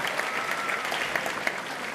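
An audience at an international circus artists' festival awards ceremony in Saint-Paul applauding the volunteers, a dense sustained round of clapping filling the whole stretch, close and even.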